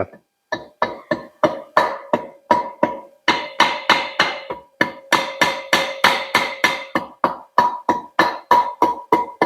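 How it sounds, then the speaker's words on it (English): A small mallet taps DRZ400E engine parts down onto their dowels, a close, steady series of sharp knocks with several quick runs and short gaps. "Okay, little mallet."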